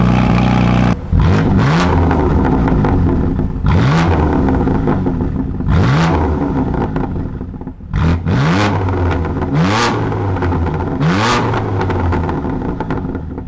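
BMW CS twin-turbo car engine revving in Sport Plus mode, a series of loud, close throttle blips rising and falling about every two seconds over a steady running drone.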